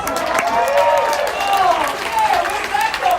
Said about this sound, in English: I'm going to get a thunderous round of applause.